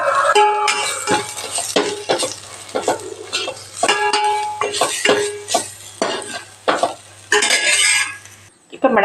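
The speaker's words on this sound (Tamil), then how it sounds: "இப்போ மிளகாத்தூள் மல்லித்தூள் மஞ்சள் சேர்த்து எண்ணெயில் வதக்கலாம்" Chili, coriander and turmeric powder sautéing in oil for a peas kurma, a pan sizzle broken by repeated sharp clinks and scrapes of a spoon against the metal pot in an uneven rhythm.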